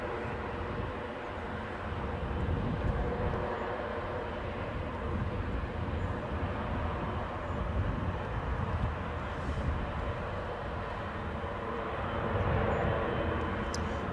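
Airliner engines at Newcastle airport drone as a steady, broad low rumble, fairly loud and continuous with slight swells throughout, no voices.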